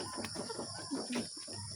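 Chickens in a small rural backyard coop give soft, faint clucks and low murmurs, a few short calls scattered over a quiet background hum.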